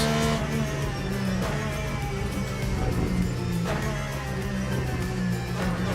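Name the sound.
race car engine in a video game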